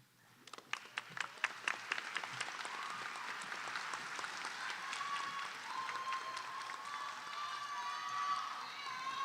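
Applause at a high school graduation ceremony begins with a few sharp, separate claps, then builds into continuous crowd clapping with some whoops that grows louder and denser toward the end.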